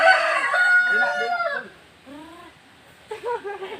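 A rooster, a fighting cock, crows loudly and close by at the start, followed by quieter, shorter calls or clucks after a brief lull.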